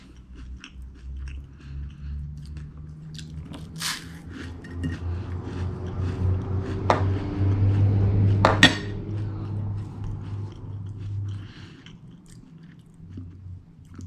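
Crunchy chewing of Weet-Bix cereal, a steady run of close, muffled bites and crunches with a few faint clinks of a dish or cutlery.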